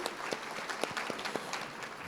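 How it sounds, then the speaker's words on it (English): Conference audience at a real estate agent summit giving a brief burst of scattered applause, moderately distant, with individual claps standing out against the room's background. "So let's give them a round of applause."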